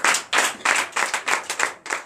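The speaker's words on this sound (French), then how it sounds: "Donnez l'acclamation à notre Seigneur Jésus." A church congregation claps in a steady rhythmic pattern during a night deliverance and prophecy service, about eight crisp, loud bursts of clapping in quick succession, close and clear.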